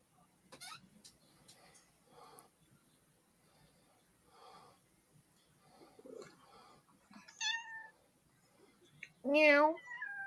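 A human voice imitating a cat's meow, delivered as one loud, rising and falling call near the end, after a stretch of quieter conversation.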